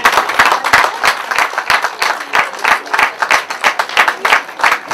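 Audience applauding trophy winners at a Josselin and Cruguel event in 2022, loud rhythmic clapping with distinct hand claps pulsing throughout, close and lively.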